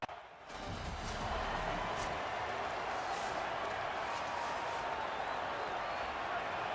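Stadium crowd at Husky Stadium on the banks of Lake Washington in the video game College Football 27, a steady, loud, broad roar of cheering that holds for several seconds with no letup.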